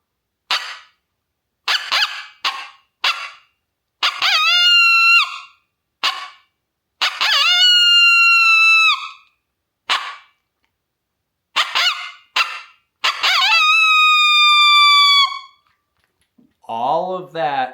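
Coyote howls are imitated on an open reed predator caller, a series of short yips and barks building into long, wavering, fluid howls, loud and close, separated by brief silences with no other sound.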